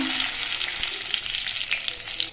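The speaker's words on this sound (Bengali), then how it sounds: "এবার এই মশলাগুলো ভেজে নেব" Four bay leaves and four dried red chillies crackling in hot mustard oil for khichuri, a loud, dense, close sizzle with faint popping throughout and no voices.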